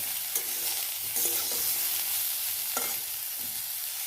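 Masala frying in a pan as it is stirred, a continuous hiss of sizzling broken by several scraping strokes of a spoon, with no speech.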